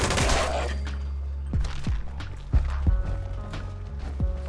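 Gunfire in the video game Fallout 76 comes as a burst of rapid shots followed by several separate, evenly spaced sharp reports, loud and close over a steady low background hum.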